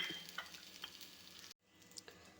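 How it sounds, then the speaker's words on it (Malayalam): Spinach wilts in oil tempered with mustard seeds, making a soft, faint sizzle with light stirring scrapes that briefly drops out before resuming. "നമ്മൾ ഈ കടു വറുക്കുന്ന എണ്ണയിൽ കിടന്ന് തന്നെയാണ് ചീര വാടി വരുന്നത്"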